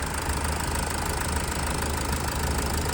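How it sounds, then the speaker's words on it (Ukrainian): A 2010 Opel Vivaro van's 2.0 dCi diesel engine idles with a steady, even rumble and light knocking, close up and unbroken, with no one speaking. "ось тут чути звук роботи нашого двигуна"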